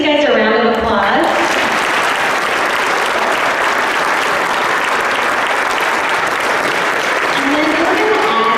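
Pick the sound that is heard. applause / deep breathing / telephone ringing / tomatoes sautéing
applause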